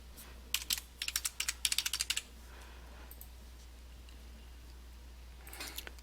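Fingers type on a computer keyboard to log in: a quick burst of light key clicks in rapid runs, a pause over a quiet background hum, then a few more taps near the end.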